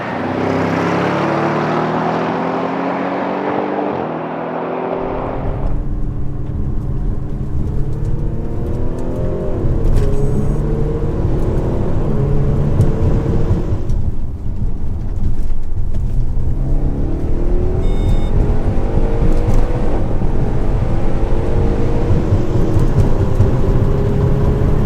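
An Audi RS6 Performance, 600 hp, and a 550 hp bi-turbo diesel A6 Allroad accelerate hard side by side from a rolling start, a loud sustained engine roar climbing through several gear changes with heavy wind noise and no talk.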